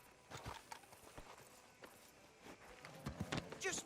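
Horse hooves clip-clop at a walk in Red Dead Redemption 2, the steps faint and irregular over a low ambient bed, a few sharper strikes near the end.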